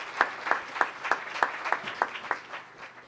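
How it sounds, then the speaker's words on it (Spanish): A small crowd clapping in a steady burst of applause, individual claps distinct and fairly close, without voices. "pido un fuerte aplauso para poder encontrarnos hoy acá"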